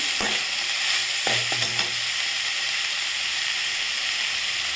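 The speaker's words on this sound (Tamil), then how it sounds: "கொஞ்சமாக கருவேப்பிலை சேர்த்துக்கலாம் கொஞ்சமாக மல்லித்தலை சேர்த்துக்கலாம் சேர்த்து நல்லா வதக்கிக்கலாம்" Curry leaves and coriander leaves sauté in a pan for hotel-style poori potato masala, a loud continuous sizzle broken by a few quick spoon scrapes near the start.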